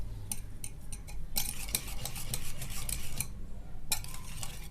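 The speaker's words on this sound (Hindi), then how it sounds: "इसको हम अच्छी तरह से मिक्स करेंगे।" A utensil briskly stirs and beats egg mixture in a bowl for egg paratha, producing rapid clinking and scraping in uneven bursts with short pauses, close and fairly quiet, no talking.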